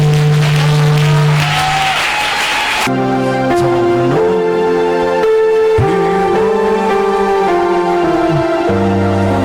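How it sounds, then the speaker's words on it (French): A church congregation claps during Sunday worship, a dense burst of applause at first that then continues under loud keyboard or organ music. "Acclame Jésus."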